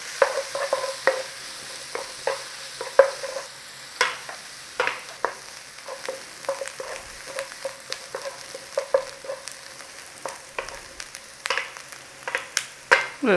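Onions cooking in butter in a pan, a low sizzle broken by frequent irregular scraping and stirring knocks, close and moderately loud, with no voices.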